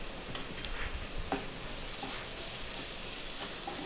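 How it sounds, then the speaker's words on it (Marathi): A spiced paneer mixture with chili powder being sautéed in a pan, a soft steady sizzle with occasional light stirring scrapes, faint and close. "याला थोडंसं परतून घ्यायचं।"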